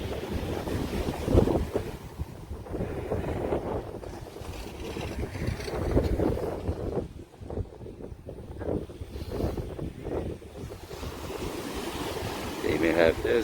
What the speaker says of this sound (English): Oh, look at that, a whole bunch of waves.